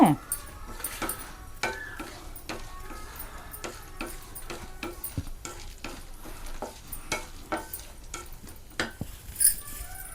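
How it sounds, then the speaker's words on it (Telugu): Cashew nuts sizzling as they fry in a pan for pongal, a soft continuous crackle with frequent sharp scraping ticks from stirring, heard close and fairly quiet. "కొంచెం వేగాలండి జీడిపప్పు దోరగా వేగితే"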